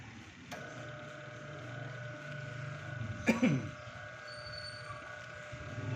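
An electric washing machine wash motor runs steadily after being wired, a constant low hum with faint tonal whine, with a brief clatter midway and occasional talk nearby.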